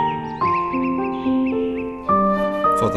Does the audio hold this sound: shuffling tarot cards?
no